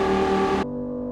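A Lamborghini Huracan in Euro Truck Simulator 2 roars at around 300 km/h, a loud steady high-revving engine drone that drops abruptly to a lower, duller hum partway through.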